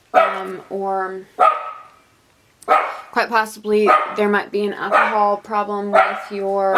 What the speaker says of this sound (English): Sorry, that was my dog.